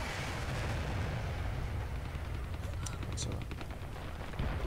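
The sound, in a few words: fire support artillery strike exploding in the video game Dirty Bomb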